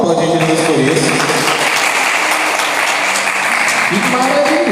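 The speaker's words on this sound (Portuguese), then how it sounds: "Vamos aplaudir Jesus por isso." A Portuguese-speaking church congregation applauding loudly and steadily during a sermon on gratitude, the dense clapping overlapped by cheering voices and talk throughout.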